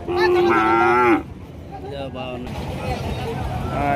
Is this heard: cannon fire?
no